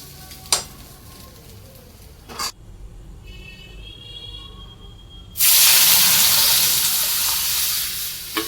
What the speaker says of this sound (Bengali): বেগুনটা মাত্র ভাজলাম